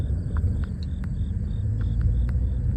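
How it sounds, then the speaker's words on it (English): Frogs calling in secluded woods, a steady series of short, regular high chirps and trills over a low, constant outdoor rumble, with no talk. "You can hear the frogs."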